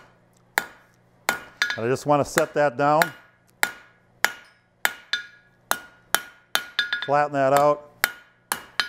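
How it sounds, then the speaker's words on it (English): Steady hammer blows ring out on a horseshoe being forged into a horse head, sharp regular strikes roughly every half second, close and loud, with someone talking between and over some of the blows. "My hammer is using half and half blows."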